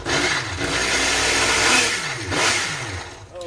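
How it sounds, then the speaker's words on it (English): A blender churns a thick smoothie, a loud steady whirring roar with surging, labored swells, running continuously and close. "Oh, and this blender doesn't want to move."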